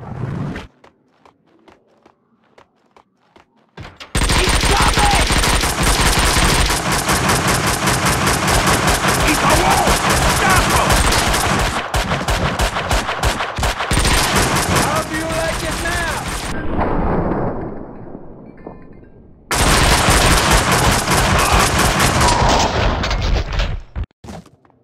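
Enemy gangsters open fire in Max Payne 2, loud sustained bursts of rapid gunshots running for long stretches, broken by a brief lull before another heavy volley resumes near the end.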